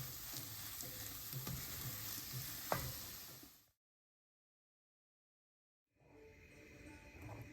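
Dosa batter sizzles and fries steadily on a hot griddle, a dense close crackle with a faint clink near the middle, then cuts to silence for about two seconds before the frying hiss resumes.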